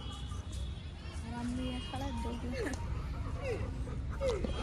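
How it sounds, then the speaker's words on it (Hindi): A German shepherd whimpers and lets out a few short yips and barks amid a noisy background with people talking nearby. "ये हमारा जर्मन शेफर्ड है"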